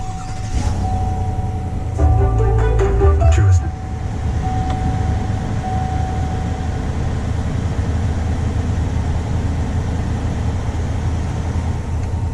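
A 2021 Chevy Silverado Z71 Trail Boss pickup, push-button start, fires up with a short, loud rumbling surge lasting about a second and a half, then settles into a quieter, steady idle heard from inside the cab.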